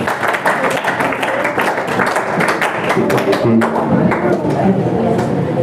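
A classroom of students claps together in a steady, dense patter that lasts several seconds, with children's voices talking over the clapping throughout.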